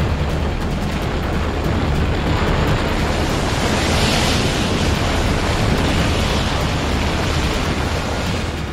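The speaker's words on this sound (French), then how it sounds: "Le vent commence à souffler sur Saint-Martin" Hurricane Irma's wind roars over Saint-Martin at night: a steady, loud, dense rush of gusting air and buffeting that continues without a break and with no voices.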